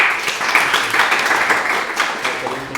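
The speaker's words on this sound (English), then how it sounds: "So please give a round of applause for Călin Văduva." The audience at a Startup Grind gathering in Cluj-Napoca gives the guest speaker loud, sustained applause, close and dense from start to end, with a voice faintly under it.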